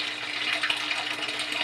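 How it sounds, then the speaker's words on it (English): Steady running water filling a home aquarium for a Frontosa cichlid family with fry, a continuous close hiss and splash with no talk over it. "Now I'm filling up the aquarium."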